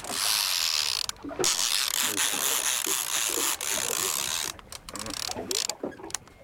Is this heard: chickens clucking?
no